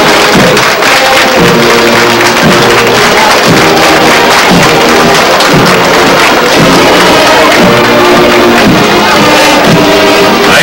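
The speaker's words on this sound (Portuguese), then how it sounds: "Aí os aplausos do público presente." A large crowd applauds and cheers loudly and continuously for a marching band at a national band championship, a dense wash of clapping with no pauses.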